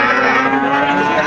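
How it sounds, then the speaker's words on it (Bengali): A Sahiwal bull at the Raniganj cattle market in Dinajpur gives one loud, close, drawn-out moo that fills the short moment. "এখানে 2টা শাহিওয়ালের ষাঁড়।"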